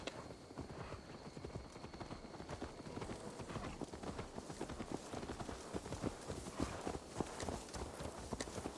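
Steady clip-clop of horse hooves walking at an even rhythm in the video game Assassin's Creed Valhalla, continuous and fairly close, with no talking.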